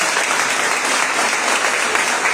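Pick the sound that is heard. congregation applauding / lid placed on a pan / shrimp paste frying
congregation applauding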